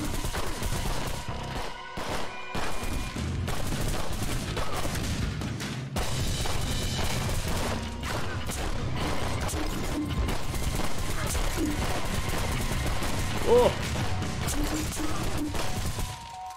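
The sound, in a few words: gunfire from enemies in the video game Blight demo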